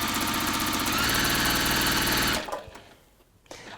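A sewing machine stitches a side seam with a fast, steady mechanical whir up close, stopping abruptly after a couple of seconds and leaving a few faint handling clicks.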